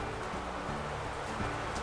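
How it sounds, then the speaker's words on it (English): Heavy rain pouring steadily outdoors on a farm, a dense, continuous hiss of drops with faint pattering hits, heard alone and fairly close. "it's really raining."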